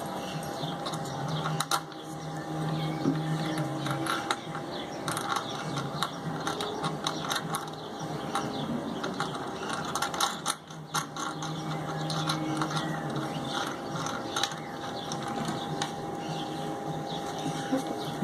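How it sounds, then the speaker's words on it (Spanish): A ratchet clicks steadily while nuts and washers are tightened onto four bolts of a wood mortising machine, close and continuous with rapid pawl ticking that pauses briefly a couple of times, a voice speaking over it. "Y así le ponemos sus tuercas y sus rondanas a los cuatro tornillos y lo terminamos de apretar"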